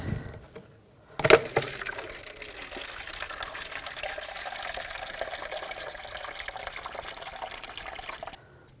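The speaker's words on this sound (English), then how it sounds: "You can put a drain bucket on the ground if you want as well, just to catch the coolant." Coolant drains from a hose into a drain bucket, beginning with a splash and settling into a steady pouring trickle for several seconds before stopping abruptly; close and fairly quiet, with no talking.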